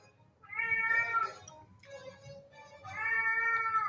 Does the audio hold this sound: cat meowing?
yes